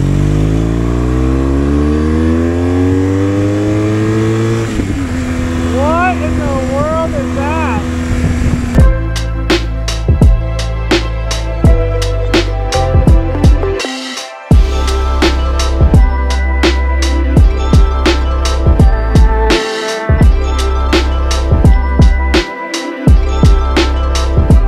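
Motorcycle engines roar and rev close by on a Swiss mountain pass road, one passing with a falling pitch, followed by a run of loud bikes accelerating and popping through gears.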